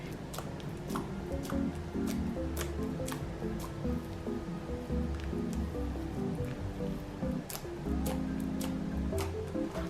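Hands squeeze and knead a liquidy, clay-like slime made from a squishy toy, giving continuous close, wet squelching with small drip-like pops over a steady low hum.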